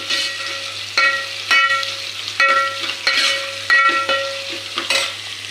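Onion sautéed with salt in a pan, loud close frying with repeated spatula scrapes and stirs every second or so over a steady sizzle and low hum.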